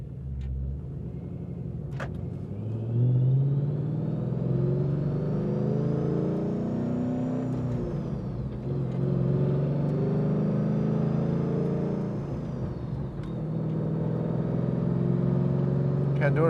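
A 2013 Chevrolet Camaro engine idles and hums in first gear with the clutch in, a steady low rumble with a faint rising whine, while someone talks over it.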